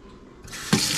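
Tap water runs into a cooking pot while moose ribs, potatoes and vegetables are being prepared. The flow starts softly, then gushes louder and steadily as the stream hits the pot, with no talking.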